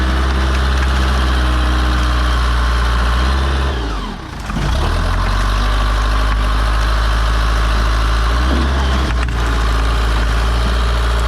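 A two-wheel drive backhoe on a farm, its diesel engine running loud and close in a steady drone, with a brief dip and surge in the middle as the wheels spin.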